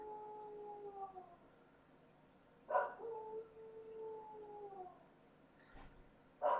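A lone dog howls and whines in long, wavering cries, pausing between bursts with a couple of sharper yelps, heard at a moderate distance in a quiet indoor room.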